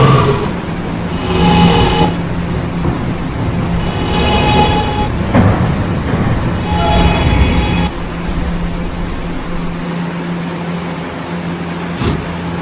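A simulated R211 E train runs on the 5th Ave line in the Roblox video game, giving a steady, loud rolling rumble with a low hum and brief swells throughout, ending in a sharp click.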